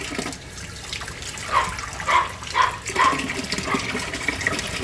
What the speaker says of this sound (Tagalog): Ayan guys, lalagyan natin ng sabaw.